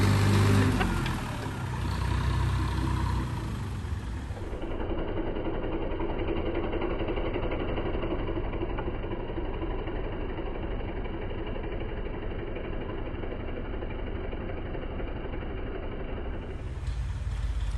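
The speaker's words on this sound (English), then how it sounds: "Doesn't leave a whole lot for me to run through with this little Honda tiller here" A small Honda garden tiller engine runs steadily in a vegetable garden while fall greens are being planted, a continuous mid-pitched chugging drone that stays loud and close throughout with no speech.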